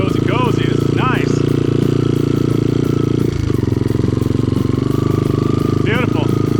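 A vintage Honda XL trail bike with a swapped engine runs close and loud, its single-cylinder exhaust a steady buzzing drone that dips briefly midway, while a voice chatters over it in short bursts.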